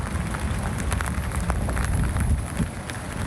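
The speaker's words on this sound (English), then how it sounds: "This is Newport Beach, where you can see some light rain and the winds are kicking up a bit." Light rain falls with gusty wind at Newport Beach during Tropical Storm Kay, a steady, dense hiss of rain and wind with no voices.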